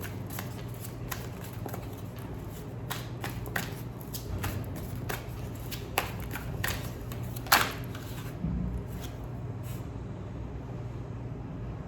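Tarot cards are shuffled by hand in quick riffling bursts, a close crisp flutter of paper repeating over a low steady background hum.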